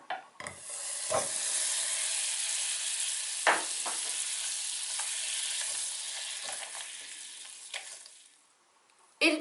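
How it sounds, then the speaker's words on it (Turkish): Butter melting in a pan for kadayıf, a continuous close sizzling hiss broken by several sharp clicks and knocks, fading out near the end before a final knock. "Önce yağımızı eritelim."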